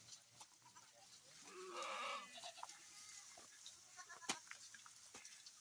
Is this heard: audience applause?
no